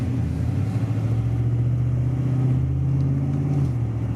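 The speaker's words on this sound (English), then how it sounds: "Shifts really nice and smooth. Nice quick upshift." A car engine pulls hard under acceleration inside the cabin, its steady drone rising in pitch and then dropping briefly as a quick, smooth upshift goes through near the end, loud and continuous with no talk.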